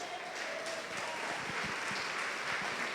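A church congregation applauding at a Holy Communion service, a dense, steady wash of many hands clapping that fills the room and holds evenly throughout.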